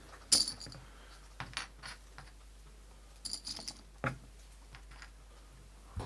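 Playing cards are riffled and tapped at a table during a five-player board game session, giving short papery bursts and clicks scattered across the quiet room with no talking.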